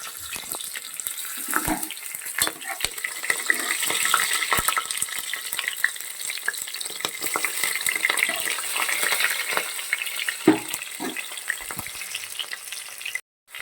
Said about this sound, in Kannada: ಈಗ ಇದಕ್ಕೆ ಹಸಿಮೆಣಸಿನ್ಕಾಯಿ ಆ್ಯಡ್ ಮಾಡ್ತೀನಿ ಸ್ಲೈಸ್ ಮಾಡಿರೋ ಒಂದೆರಡು ಎರಡರಿಂದ ಮೂರು ಹಸಿಮೆಣಸಿನ್ಕಾಯಿ